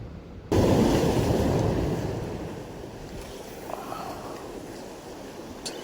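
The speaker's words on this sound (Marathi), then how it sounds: "पाण्याचा आवाज" Sea waves at Kashid beach near a jetty, a loud rush of surf starting abruptly and then easing into a steady wash with wind noise, with no one speaking.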